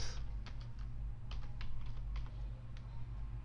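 Light, quick keystrokes tap on a computer keyboard as a username is typed, a close, quiet run of clicks over a steady low hum with no talking.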